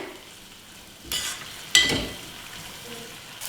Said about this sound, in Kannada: ಇದನ್ನು ಮಿಕ್ಸ್ ಮಾಡಿಕೊಂಡು ಮೇಲೆ ಸ್ವಲ್ಪ ಎಣ್ಣೆ ತೇಲೋವರೆಗೂ ಇದನ್ನು ಕುದಿಸ್ಕೊಳ್ಳೋಣ